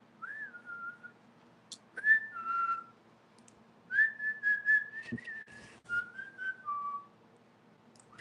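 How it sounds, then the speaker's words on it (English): A person whistles a slow, wavering tune alone in a quiet room, with several sustained and sliding notes in separate phrases and brief pauses between them, fairly close and clear. "I could still whistle."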